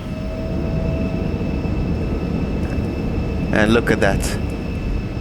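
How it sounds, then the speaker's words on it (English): Embraer E-Jet airliner engines roar steadily through a maximum performance takeoff, a loud continuous broadband rumble heard from the flight deck, with pilots talking over it. "That's a maximum performance takeoff for you."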